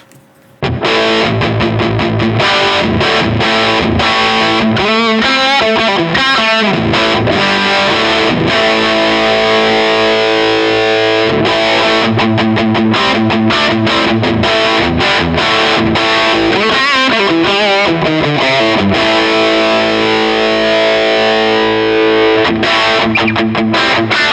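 An electric guitar played through a Marshall-style overdrive pedal, sustained crunchy chords and slides ringing loudly and continuously with no talking.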